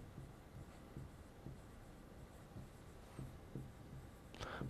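A ballpoint pen scratches on paper in a quiet classroom, soft, close strokes in short irregular bursts, faint beneath low room hiss.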